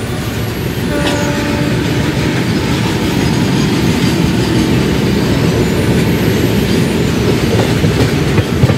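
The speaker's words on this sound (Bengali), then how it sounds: "হাই স্পিডে মালগাড়ি ক্রস।" A fully loaded freight train hauled by a WAG-12 locomotive on the Eastern Dedicated Freight Corridor rushes past at high speed, a loud, steady roar of wheels and rattling wagons with rhythmic clatter and a short horn note early on.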